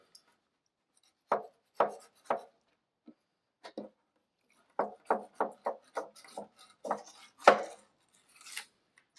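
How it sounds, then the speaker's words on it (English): A knife works under the skin of a yellowtail kingfish fillet, a series of short crisp scraping strokes in irregular bursts over near silence, close and quiet with no talk. "skinning it, you just want to get your knife under and get purchase on the skin and let the knife do the cutting"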